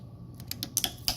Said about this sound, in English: I just grab my needle nose and just rip this plate off of here